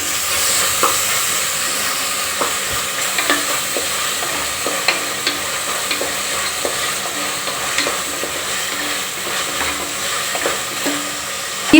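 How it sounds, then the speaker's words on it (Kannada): A spoonful of ginger garlic paste fries in a hot pan while being stirred, producing a steady close sizzle broken by repeated scraping and clicking of a spoon against the metal, with no one speaking. "ಶುಂಠಿ ಬೆಳ್ಳುಳ್ಳಿ ಪೇಸ್ಟ್ ಹಾಕ್ತಾ ಇದ್ದೀನಿ, 1 ಸ್ಪೂನ್ ಅಷ್ಟು. ಚೆನ್ನಾಗಿ ಮಿಕ್ಸ್ ಮಾಡೋಣ."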